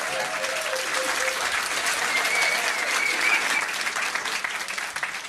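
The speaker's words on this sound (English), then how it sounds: "give him a round of applause for trying" Applause from a pub crowd at a trivia quiz night in The Yard, a dense steady patter of many hands clapping close by for about five seconds, with faint voices mixed into the noise.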